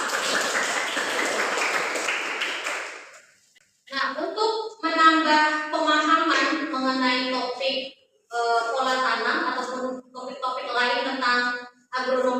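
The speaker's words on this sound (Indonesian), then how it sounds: "Aplaus untuk kita semua" Applause from an audience during an online agronomy lecture: a burst of clapping for about three seconds that fades out, followed by a person talking.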